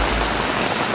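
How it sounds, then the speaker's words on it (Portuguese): Heavy torrential rain pours down during a February storm in Bacabal, Maranhão, a loud, dense and steady hiss of water striking surfaces that fills the whole second with no talk. "Muita chuva, viu?"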